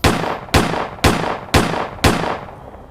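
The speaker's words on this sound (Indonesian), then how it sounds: "Tidak 1, 2, tapi 3 tembakan dilepaskan begitu saja." Five sharp gunshots fired at close range on a street in Lince, Lima, Peru, evenly spaced about half a second apart, each loud crack followed by a short echoing tail, with no talking.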